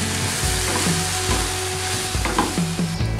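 Granola with sugar and a little maple syrup cooking in a pan, with steady frying sizzle and repeated spoon stirring and scraping strokes close by, no voices.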